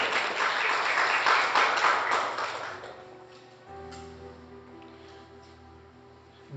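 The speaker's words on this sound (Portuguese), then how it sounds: "Você pode dar um aplauso ao Senhor Jesus?" Church congregation applauding during a service, a dense wash of clapping filling the first three seconds before thinning out into quieter room sound and lingering tones.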